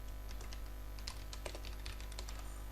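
Quiet, close keystrokes tap on a computer keyboard in an irregular quick run while a search term is entered on a Windows 11 PC, over a steady low hum.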